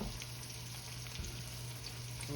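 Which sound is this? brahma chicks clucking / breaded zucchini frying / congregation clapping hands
breaded zucchini frying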